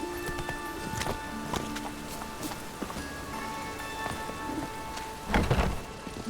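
Hooves of Roach, the horse in The Witcher 3, clopping through rain: soft, irregular hoofbeats over a steady hiss of rainfall, with a louder thud cluster near the end.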